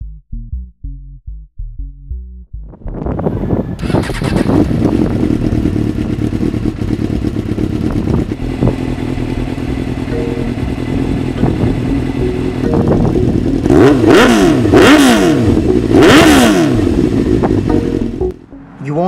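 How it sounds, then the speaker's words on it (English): A Suzuki GSX-R600 motorcycle engine cranks with a few stuttering turns, catches and settles into a loud, close idle, then revs up several times in rising and falling bursts. "First off, let's get the bike started."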